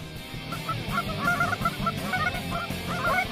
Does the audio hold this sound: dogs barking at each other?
no